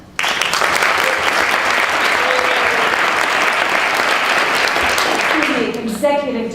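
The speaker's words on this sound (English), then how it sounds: "We get another round of applause." An audience applauds at a theatre leadership panel, with dense, steady clapping that starts abruptly and holds loud and even for several seconds before thinning out near the end.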